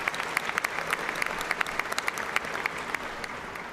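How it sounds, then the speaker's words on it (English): A graduation audience at Eastern Kentucky University's fall 2019 commencement applauds steadily, a dense, sustained wash of many hands clapping with sharper individual claps popping out throughout. "let's give them a round of applause as our way to say thanks"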